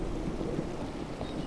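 Low rumbling storm noise with a soft rain hiss from a Minecraft thunderstorm, steady and muffled for a short stretch without voices.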